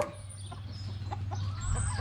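Black laced Wyandotte and barred rock chickens cluck softly over a steady low hum of background noise, with a few brief calls scattered through the short stretch.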